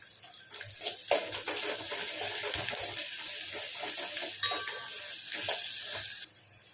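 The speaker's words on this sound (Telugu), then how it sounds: "ఉల్లిపాయ ముక్కలు అయితే ఇలా ఫ్రై కావాలండి, మరీ బ్రౌన్ కలర్ అవసరం లేదు." Onion pieces with curry leaves and ginger garlic paste sizzle steadily in a pan while being stirred, a continuous close frying hiss with occasional scraping of the utensil.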